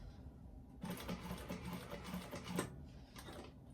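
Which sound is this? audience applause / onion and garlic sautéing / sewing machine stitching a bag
sewing machine stitching a bag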